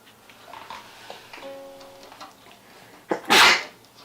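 A single sharp sneeze bursts out near the end after a quiet stretch with faint background sounds and a brief tonal hum.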